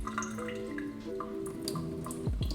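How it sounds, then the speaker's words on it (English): Running water pours and drips while rice is rinsed in a fine strainer, close splashy droplets over a soft background tone, ending with a brief lower gurgle. "you can do this through a fine strainer or colander or something that won't make the rice fall through when you rinse it off."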